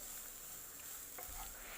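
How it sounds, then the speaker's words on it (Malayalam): Chicken being stirred into masala in a pan, a close, steady scraping and stirring with a soft sizzle throughout, no voices. "ആ മസാല ഒക്കെ ആ ചിക്കനിലേക്ക് പിടിക്കുന്നത് വരെ നന്നായിട്ട് മിക്സ് ചെയ്ത് എടുക്കാം"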